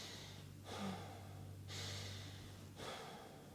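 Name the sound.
breathwork breathing in and out through the nose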